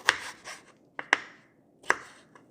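A knife slicing the ends off potato cores on a cutting board, giving five or six short, crisp cuts in an uneven rhythm, close and clear with quiet gaps between.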